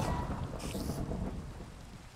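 A heavy rainstorm with a rumbling roll of thunder in Minecraft, played in VR: continuous hissing downpour and low booming, with a brief brighter rain burst partway through.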